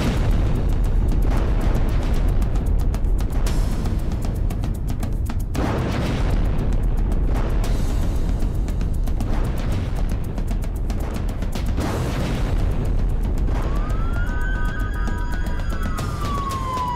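Loud, continuous roar of the Beirut, Lebanon explosion blasts and rumbling debris, with a siren wailing near the end.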